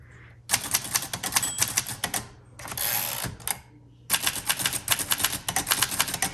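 Rapid clattering keystrokes on a 1948 Underwood Champion portable typewriter, loud and close, in two dense bursts separated by a brief pause with a softer whirring mechanism sound, no talking.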